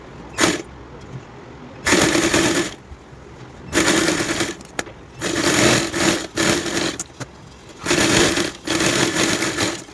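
A sewing machine stitches baby dress pieces in several sharp, loud bursts of rapid whirring, each lasting about a second, broken by short quiet pauses.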